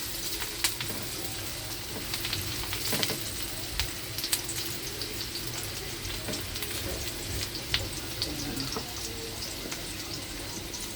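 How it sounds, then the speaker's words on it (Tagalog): Garlic and onion sauté in a pan for a Bicol Express dish in a home kitchen, a steady close-up sizzle with scattered sharp clicks and scrapes of stirring throughout. "Gigisa na po tayo ng bawang sibuyas."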